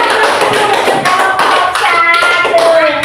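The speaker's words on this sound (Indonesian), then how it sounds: "tepuk tangan dulu untuk temannya" Children in a classroom clap for a classmate, a sustained round of scattered hand claps with some voices mixed in.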